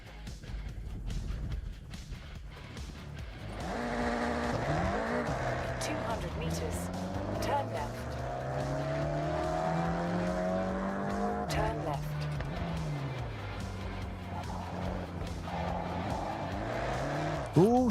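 Acura Integra Type R A-spec race car in Forza Horizon, its engine revving and climbing through gears with shifts, plus tire squeal and skidding, loud and continuous.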